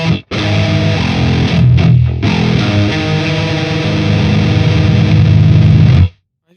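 Electric guitar riff with heavy distortion, loud and sustained, chugging low notes with brief breaks near the start, then ringing out before cutting to silence.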